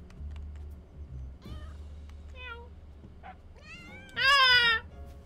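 Several meows from a cat in a video game, a run of short plaintive calls building to a louder, drawn-out wail near the end over a low background hum.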